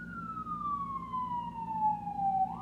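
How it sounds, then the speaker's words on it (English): A siren wails in the distance, one long tone sliding slowly downward before rising again at the end, over a low steady background rumble. "Do you hear these sirens in the background?"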